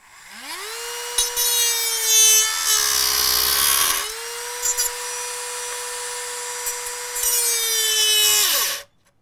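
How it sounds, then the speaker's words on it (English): A Dremel rotary tool spins up to a high steady whine and grinds material from a lightsaber part in harsh bursts of contact, then winds down quickly as it stops, close and alone. "I think I'll try to just remove a little material actually with the Dremel since I have it out."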